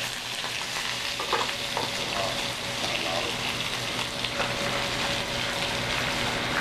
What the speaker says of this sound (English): I got put some olive oil in a wok, and I'm gonna just throw in some spinach